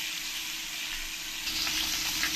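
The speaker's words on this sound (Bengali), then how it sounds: "এই মাছগুলোকে ভালো করে উল্টে পাল্টে লাল লাল করে ভালো করে কড়া কড়া করে ভেজে নিতে হবে" Tilapia fish frying in hot oil, a steady close sizzle with crackling hiss that swells slightly toward the end, continuous and unbroken, with no voices.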